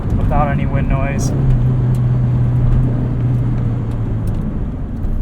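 A 1991 Honda Civic Si EF hatchback with a D16 engine cruising in fifth gear with the windows rolled up, giving a steady, deep engine drone and road rumble that stays constant, with brief speech near the start.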